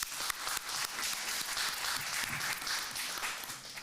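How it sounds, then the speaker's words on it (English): A conference audience applauds at a forum on diasporas and minority rights, steady dense clapping held at a fairly low level and some distance away, with no voices over it. "let's just give them one round of applause"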